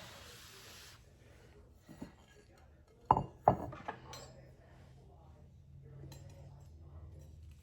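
A casserole dish is scooted across a kitchen counter, giving a couple of sharp scraping clinks around the middle amid quieter kitchen handling noise, with faint background hum and no speech.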